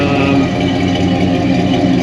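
A car engine idles steadily after its timing was corrected, with a constant low mechanical hum and faint ticking. It runs close and even throughout, with no voices.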